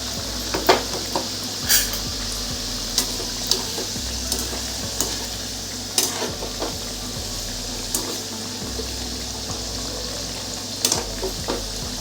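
Jaggery fritters (kapnya) fry steadily in hot oil, giving a continuous close sizzle with occasional sharper pops and crackles from start to finish.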